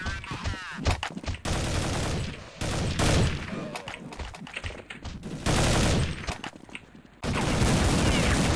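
Rapid gunfire in a shooter video game: loud, close bursts of automatic fire in several long volleys, separated by brief quieter gaps, with no talking.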